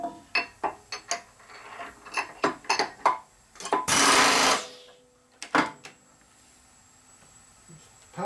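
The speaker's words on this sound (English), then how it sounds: "Gonna use our fly cutter again." A fly cutter machines a part for a 1946 Harley knucklehead engine rebuild, giving a series of short, sharp metallic bursts, then one longer loud rasp and a few more scattered hits, close and fairly quiet, with no talk.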